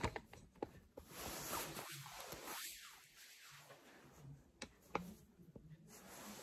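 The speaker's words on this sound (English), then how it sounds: "Look at the zipper pull." Zipper pull on a hoodie being handled up close, faint metallic clicks and light fabric rustling scattered through a quiet stretch without speech.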